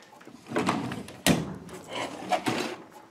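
A workshop drawer full of tools slides open and shut with wooden rumbling scrapes and a sharp knock partway through, close and moderately loud with no voices.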